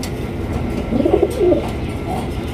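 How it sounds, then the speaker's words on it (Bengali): Red frillback pigeons give a short run of soft, low cooing at moderate distance, a few warbling notes rising out of a steady background hum. "মাশাআল্লাহ ফিলব্যাক কবুতর,"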